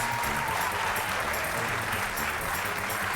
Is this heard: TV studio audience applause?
yes